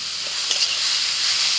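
Beetroot fries in mustard oil with green chilli and turmeric, giving a steady, bright sizzle close by, with a few soft stirring clicks and no voices.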